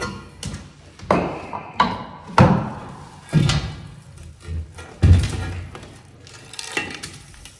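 A heavy metal access plate from an underground tank being lifted and handled, giving a string of close, loud thuds and clanks at irregular intervals, with faint scraping between the knocks and no talk.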